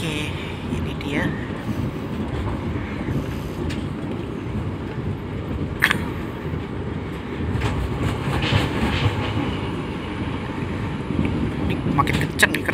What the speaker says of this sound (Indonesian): Makin kenceng nih kereta nih.